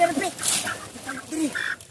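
Excited squawking and clucking from a chicken, several harsh cries in a row, with voices and commotion mixed in close by.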